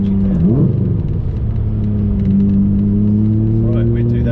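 Engine of a Lamborghini Murcielago LP670-4 SV, a loud, deep rumble with rising and falling tones as it revs while driving, heard close up from inside the car with people talking over it.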